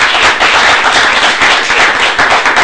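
Loud, continuous audience applause at a French-language talk on sexuality, dense clapping filling the whole stretch without a break.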